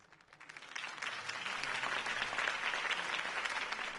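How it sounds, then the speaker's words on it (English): A crowd in the Batman Telltale video game applauds after a campaign speech, the clapping swelling quickly from quiet to a full, dense ovation that holds steady and fairly distant to the end. "could have heard that applause"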